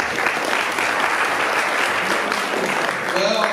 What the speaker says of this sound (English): Let's give Tracy a round of applause, everyone.